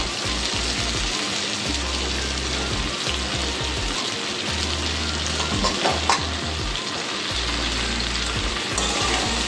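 Potatoes and ridge gourd fry in oil in a pan with a steady, loud, close sizzle and intermittent stirring scrapes throughout, no voices.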